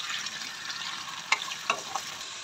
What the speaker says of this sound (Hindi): उसके बाद हम थोड़ा सा उसको भूनेंगे।